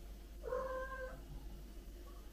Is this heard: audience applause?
no